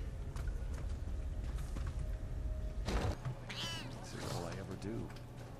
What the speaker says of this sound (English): That is one angry cat.